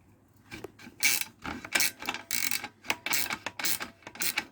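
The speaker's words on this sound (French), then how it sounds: "Hop, j'ai mon petit cliquet." A small ratchet with a 10 mm socket loosens a rusty exhaust bolt on a 250 KX-F motorcycle: a series of close, dry clicking bursts in an uneven rhythm, each a quick run of pawl clicks, with nothing else in the background.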